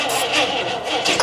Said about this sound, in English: now it's time to see if we can get it to run a little bit on some starting fluid